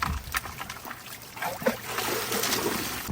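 Water from a gold dredge tube backwashing out, faint irregular trickling and sloshing with small splashes, quiet and close.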